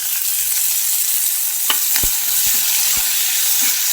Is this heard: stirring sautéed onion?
yes